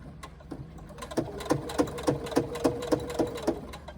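A sewing machine stitches an X pattern across the bottom of a fabric pouch, its needle thumping in a steady, even rhythm of close, moderately loud bursts.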